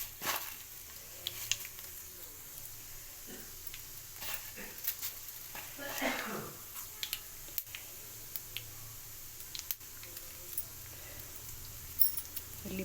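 Cumin and mustard seeds spluttering in hot tempering oil, faint scattered pops and crackles spread across the stretch with a low background hiss.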